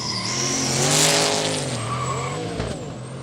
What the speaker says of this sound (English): You could hear that, I think it is a turbo small block of some description in the tray back, but it's that 300ZX getting the throttle down